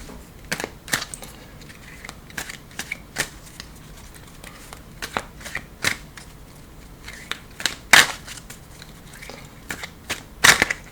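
Tarot cards are shuffled in an irregular run of sharp riffling snaps and soft slides, close and fairly quiet, ending in two louder riffles near the end. No one speaks.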